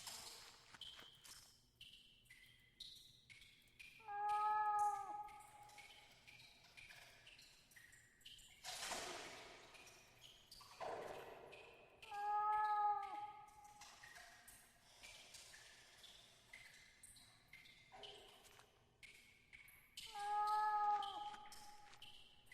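In the point-and-click horror game The Last Door, a cat meows behind a wall, three faint muffled calls spaced several seconds apart over quiet ambient rustles and soft footsteps.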